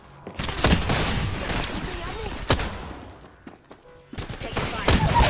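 Gunfire in Apex Legends, several sharp close shots and short rapid bursts spread across the clip, with quiet game ambience between them and a voice briefly audible.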